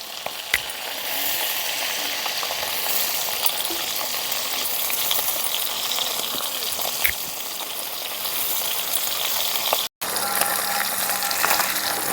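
Fish sizzling steadily as it fries in a pan of oil, a loud continuous crackle with a few clicks and brief pan noises throughout.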